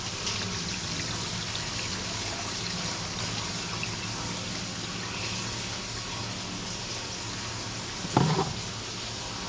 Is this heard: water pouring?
yes